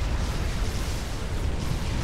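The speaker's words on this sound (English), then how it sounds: "Oh, there's so many explosions." A dense, booming wash of overlapping explosions from a large Supreme Commander: Forged Alliance battle on Regor Highlands, loud and continuous low rumbling with no clear gaps between blasts.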